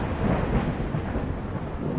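Thunderstorm in the Skyrim video game: a heavy, continuous rumble of thunder over steady pouring rain, loud and close, with no voices.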